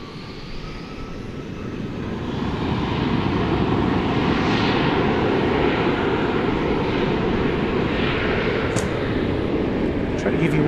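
An airliner departing DFW Airport on runway 18 left at night, a steady broad engine roar that swells after the first couple of seconds and holds loud and constant throughout.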